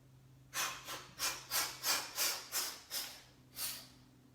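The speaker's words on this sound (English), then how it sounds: "cleansing breath. Same thing, inhaling, and then 7 forced short out breaths on the exhale." A breathing exercise of forced short exhalations, heard as a rhythmic series of about nine sharp, hissing out-breaths, close and evenly spaced, with a slightly longer gap before the last one and no speech.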